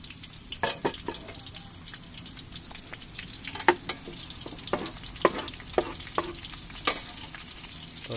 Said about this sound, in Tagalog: Pwede na po natin ilagay yung sibuyas mga ka-organic.